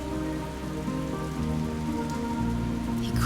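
Heavy rain in an animated children's story, a dense steady patter on surfaces with a layered soundtrack tone beneath, continuous and fairly loud without speech.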